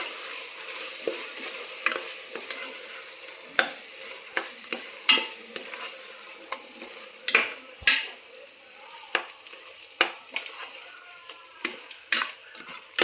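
Biryani masala with yogurt fried in oil for seeraga samba chicken biryani, a low steady sizzle punctuated by frequent sharp ladle clinks and scrapes against the pot, with no speech.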